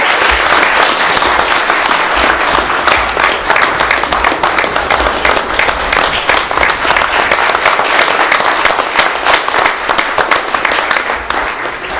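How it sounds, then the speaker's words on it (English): Sustained, loud applause from an audience at an Erie Fire Department swearing-in ceremony fills the room steadily, a dense wash of many clapping hands continuing without pause before tapering slightly at the end. "Some round of applause."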